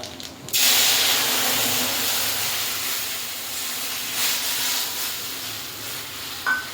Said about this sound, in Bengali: এবার তেলটা গরম আছে, এবার একটু কালো জিরে দিয়ে দিলাম